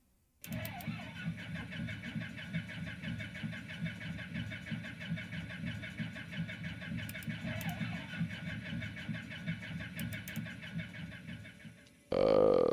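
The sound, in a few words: aircraft piston engine starting up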